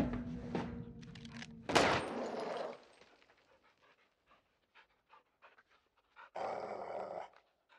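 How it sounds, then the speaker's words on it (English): Caged dog in Call of Duty: Modern Warfare 2 growling and panting up close in a loud opening burst, then quieter scattered thuds and a final harsh snarling burst near the end. "You see the caged dog?"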